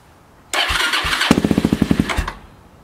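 Suzuki DRZ400 motorcycle engine cranking with a whirring starter for under a second, then catching into a rapid, loud run of firing pulses before cutting off; no talk.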